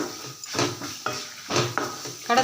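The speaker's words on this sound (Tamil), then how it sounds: "எல்லாத்தையும் இந்த எண்ணெயில் நல்லா வதக்கிடுங்க" Tamarind and asafoetida sautéed in oil in a pan for a thuvayal chutney, with several spatula scrapes and metallic clinks coming in uneven strokes close by and a faint sizzle underneath.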